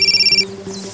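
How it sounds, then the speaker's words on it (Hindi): A phone rings with a quick, trilling electronic pulse for about half a second, followed by a steady low tone, close and clear. "मेरा फोन बज रहा है।"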